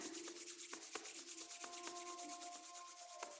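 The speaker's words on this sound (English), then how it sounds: "Rub your palms together again." Palms rubbing briskly together, a steady dry broadband swishing with small rhythmic strokes, close and fairly quiet, with no talking.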